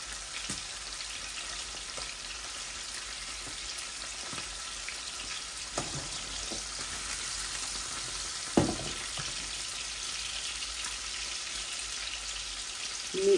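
Pieces of fish sizzle in hot oil, being fried to medium before a mustard-paste curry, a constant near crackle with occasional louder spatters and a brief clank, no voices.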